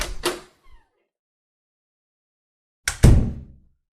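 Front-door sounds: a brief knock-like rattle, then a longer silence, then a sharp, close thump of the door with a low resonant boom that fades out.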